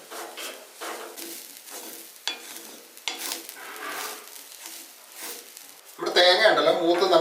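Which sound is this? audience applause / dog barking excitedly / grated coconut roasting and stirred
grated coconut roasting and stirred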